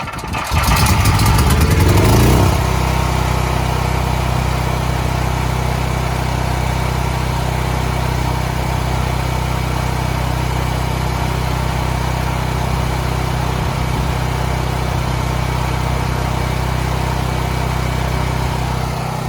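Cheap gasoline generator engine starting with a loud sputtering burst, then settling into a steady, loud running drone that holds for the rest of the clip with no talk.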